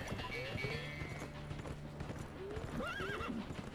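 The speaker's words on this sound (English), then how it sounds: "How do you make a horse stop?" Horse hooves clip-clop steadily while a horse neighs and whinnies in The Escapists 2 prison-escape video game, layered over game music and other effects.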